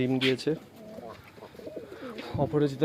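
Soft pigeon cooing close by, mixed with other bird calls and a person talking over it.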